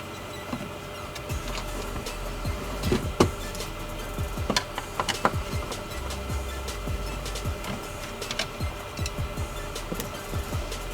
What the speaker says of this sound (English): So I'll remove these screws on the sides.